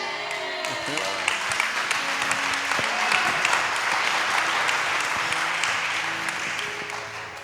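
Church congregation at a special testimony service claps and cheers in sustained applause, building and then easing off, with voices calling out over the clapping.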